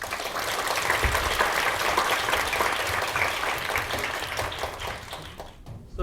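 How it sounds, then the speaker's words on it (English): Lecture hall audience applauding to welcome a speaker at a Tang Prize lecture, a dense, loud wash of clapping that stays steady then fades near the end. "Please, a round of applause."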